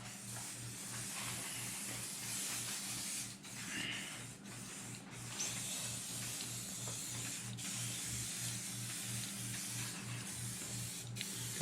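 SC1 cleaning product sprayed onto a UTV's cargo box, a steady close hiss of spray running throughout with a rhythmic low mechanical pulse beneath it.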